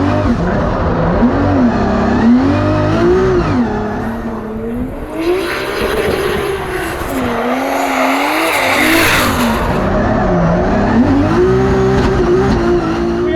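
A drift car's engine revs and wails through a tight Formula Drift course with tires squealing, loud and close. The note rises and falls continuously, with heavy skidding noise throughout.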